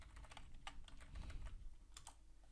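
Computer keyboard being typed on at close range, a quick run of soft irregular key clicks with brief pauses, faint and without any talking.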